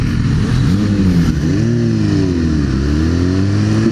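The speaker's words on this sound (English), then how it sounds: "Sports bike? FZ09 and Kawasaki something." Sport motorcycles, a Yamaha FZ-09 and a Kawasaki, rev and accelerate nearby, their engine notes rising and falling in short sweeps over a continuous rumble.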